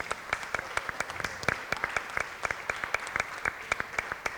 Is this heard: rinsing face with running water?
no